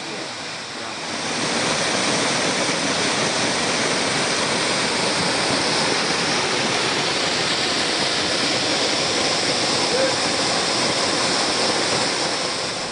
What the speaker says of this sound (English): Owerri Ezukala Waterfalls is a magnificent sight.